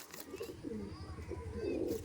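Pakistani teddy pigeons coo close by, with repeated soft throaty rolling calls overlapping in a quiet, continuous stream.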